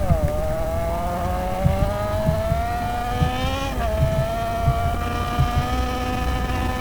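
A motorcycle engine in the video game GTA holds high revs against the rev limiter, a sustained buzzing tone that climbs, dips sharply once and holds again, with faint stuttering cut-outs underneath.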